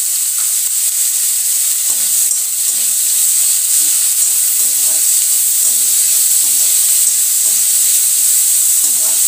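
Tomatoes and salt sizzle steadily in a pan with cooked onions for palak paneer, a continuous loud frying hiss with faint stirring taps throughout.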